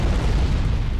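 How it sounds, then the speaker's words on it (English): Large explosion in the PS2 shooter Area 51, a loud, dense low rumble that fills the whole moment with no break. "Whoa, that was a big explosion."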